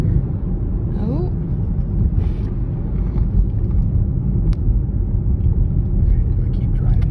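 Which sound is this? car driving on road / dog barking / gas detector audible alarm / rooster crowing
car driving on road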